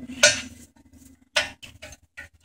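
A screwdriver turns a brake adjuster on a 2002 BMW 325i, giving a couple of distinct sharp metallic clicks followed by lighter ticks, close and isolated.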